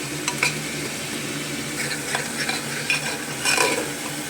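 Onions frying in a pan with whole spices for a chickpea dish, a soft continuous sizzle broken by scraping stirs and light clinks of a spoon against the pan.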